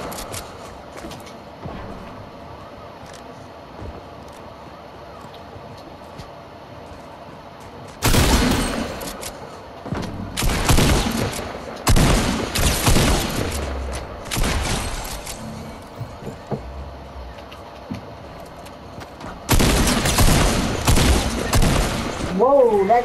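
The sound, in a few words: gunfire in a video game (Fortnite 1v1)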